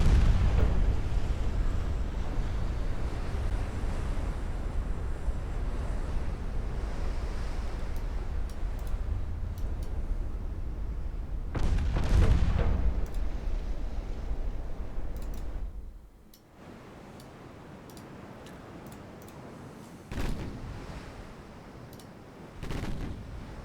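Transport ship exploding in a naval war game, a run of deep booming blasts and rumbling gunfire-like bursts, loud at first then dropping off, followed by a few sharper cracks, no talking.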